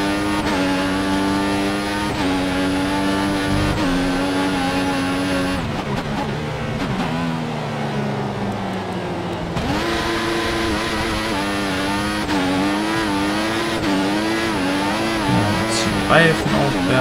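Simulated Formula 1 race car from the game F1 2014 weaving to warm its tyres, engine whining and revving up and down continuously with gear shifts, with someone talking over it.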